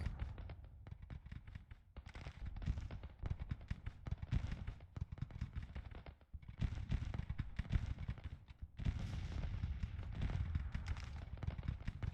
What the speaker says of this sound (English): Now they're firing.